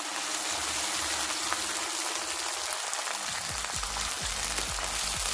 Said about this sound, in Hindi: अब इसमें 3 अदर टमाटर ऐड करते हैं, इनको देसी में फ्राई करना है